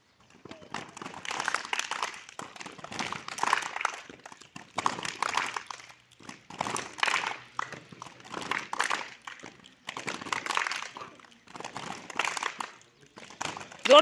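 Children clap a rhythmic 'dhin chak' clapping pattern together in a group activity, repeated bursts of sharp hand claps in steady phrases with short pauses between them, fairly close and moderately loud.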